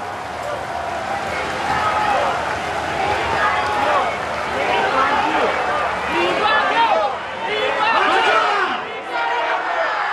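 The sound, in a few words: funeral crowds shouting emotionally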